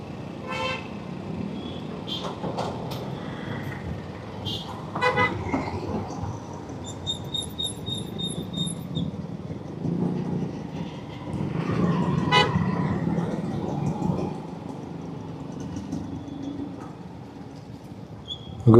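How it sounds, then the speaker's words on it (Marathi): Heavy congested road traffic with a steady engine rumble and several short car-horn toots scattered through, one tonal horn blaring for a couple of seconds midway, with no talk over it. "आज इतना ट्रॅफिक आहे."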